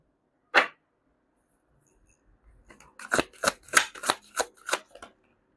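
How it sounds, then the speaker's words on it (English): A single sharp card flick, a pause, then a rapid run of crisp riffling snaps as a deck is shuffled close up. "You saw me shuffle 2 aces."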